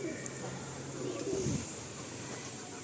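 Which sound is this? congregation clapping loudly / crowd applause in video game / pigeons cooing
pigeons cooing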